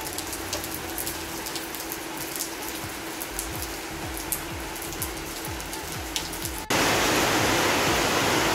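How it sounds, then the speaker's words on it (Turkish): Heavy rain pours down outdoors at a highland spot, a steady hiss of drops that suddenly swells into a dense, loud downpour near the end, with no voices. "Yağmur çok hızlandı."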